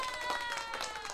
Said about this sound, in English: So we gave you a little applause there.